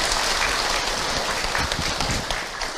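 A crowd at a religious talk gives a continuous, dense burst of clapping for the preacher Ustaz Hilman, loud and even throughout the clip with no pause.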